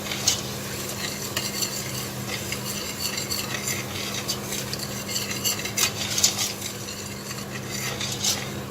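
Potatoes, onion and English spinach are stirred in a pan over low heat, with a spoon scraping and clinking against the metal in uneven strokes over a soft, steady sizzle.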